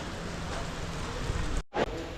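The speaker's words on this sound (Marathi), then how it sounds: "आज एकदम मुसळधार पाऊस झालेला आहे" Dense, steady hiss of heavy rain close by, briefly cut off by a short dropout before resuming.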